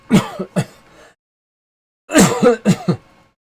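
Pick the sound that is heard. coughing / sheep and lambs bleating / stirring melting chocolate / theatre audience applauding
coughing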